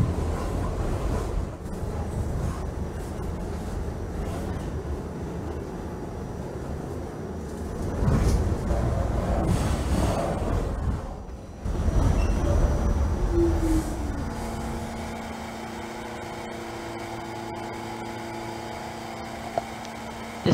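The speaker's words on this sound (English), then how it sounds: "This is an N train to Manhattan" An NYC subway N train running in Trainz Simulator 2012: a steady, loud rumble of rolling wheels and motors that dips briefly, then returns with rising and falling electric motor whine as the train moves.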